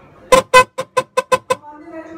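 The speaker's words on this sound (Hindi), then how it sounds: "चल रहा है हॉर्न।" A repaired motorbike horn honks in a run of seven short, loud blasts, the first two longer and the rest quick and evenly spaced. A faint hum lingers after the last blast.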